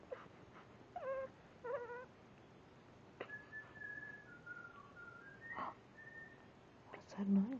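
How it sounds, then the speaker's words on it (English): Faint whistled notes, short rising chirps and then a longer wavering tune, mixed with soft whimpering and a brief voice near the end, quiet and close. "What's that noise? What's that whistling?"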